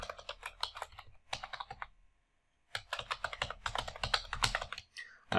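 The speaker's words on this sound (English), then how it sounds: "I will manually type this configuration out" Close, crisp typing on a computer keyboard in rapid bursts of keystrokes, broken by a pause of about a second before the clatter resumes, with no talking.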